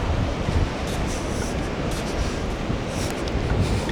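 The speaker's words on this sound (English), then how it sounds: "It's a beautiful stretch of beach" Waves wash steadily onto the beach at Whitsand Bay, a soft, continuous broadband hiss of distant surf with light wind, no voices.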